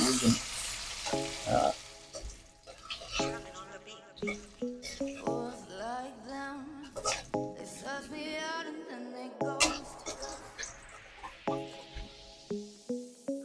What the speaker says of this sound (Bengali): পেঁয়াজ দিয়ে ভালো করে ভাজি দেবো